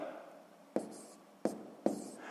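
A pen or pencil writes a number down by hand in a few short separate strokes with quiet gaps between them, close and faint.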